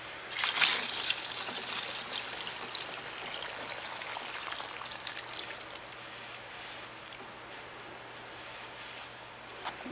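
Water trickling and splashing into a rock grinder processing a potato rock, a continuous close wash that is louder at first and then settles into a steady softer flow, with no speech.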